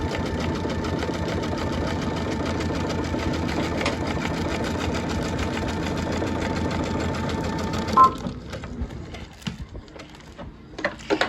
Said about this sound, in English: just real close I'm going to top stitch